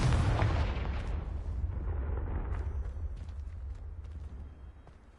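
Blasting-spell explosion in Hogwarts Legacy: one heavy boom at the start, then a long low rumble that slowly fades with scattered faint debris crackles over about five seconds.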